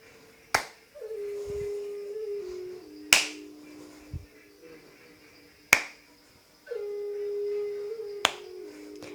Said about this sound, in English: we'll do a clap above the crown, back to the heart